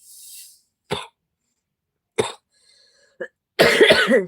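Several separate coughs and a throat clearing from one nearby person in a quiet room, spaced a second or so apart, ending in a longer burst of harsh coughing.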